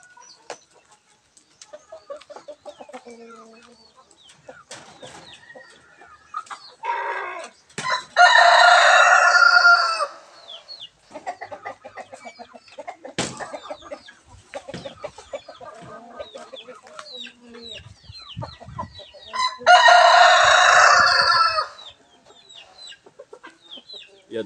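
Chickens cluck and a rooster crows loudly twice at close range among ongoing bird calls and short scattered noises, with no talking, in a backyard where crossbred hens are being raised and tied up.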